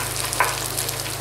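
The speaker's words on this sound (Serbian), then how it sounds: "Kada je luk omekšao, dodajemo jednu iseckanu šargarepu i pržimo još 5 minuta." Chopped onion and carrot fry in a pan with a steady, close sizzle, a brief stirring scrape partway through, and a low constant hum beneath.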